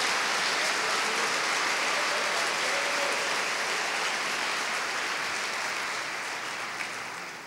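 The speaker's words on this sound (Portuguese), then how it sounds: "Pode aplaudir o Senhor?" A church congregation claps together in praise during a worship service, a broad, sustained wash of many hands that stays loud and fades only slightly toward the end.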